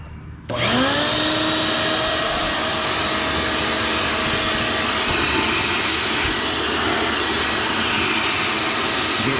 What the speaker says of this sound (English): I'm gonna go ahead and use my shop vac.